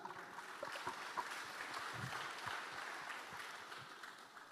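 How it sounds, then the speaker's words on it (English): An audience at a tech conference claps in sustained, moderately distant applause, a dense even patter of many hands lasting several seconds. "I think that's a good place to clap."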